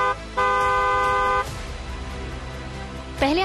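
A vehicle horn blares in one long sustained honk, loud and close, followed by a low rumble and then a second short rising toot.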